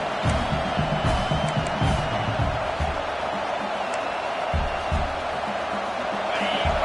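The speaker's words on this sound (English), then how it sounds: "This crowd trying to make life miserable for this offense." Steady roar of a college football stadium crowd at Nebraska versus Ohio State, loud and continuous throughout with scattered whoops and cheers, while a commentator's voice runs over it.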